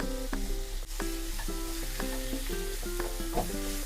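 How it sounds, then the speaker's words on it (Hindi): Grated carrot halwa roasting in ghee in a pan, giving a soft steady sizzle with light scraping stirs at a gentle, even rhythm, fairly faint and close with no talking. "गाजर के हलवे को हम जितना ज़्यादा भूनते हैं घी में, वो उतना ही ज़्यादा टेस्टी बनता है।"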